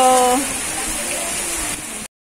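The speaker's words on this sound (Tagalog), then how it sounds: "Basang-basa kasi biglang bumuhos yung ulan" Sudden heavy rain pours down in a Singapore botanic garden, a steady broadband hiss of downpour with a brief voice at the start, cutting off abruptly near the end.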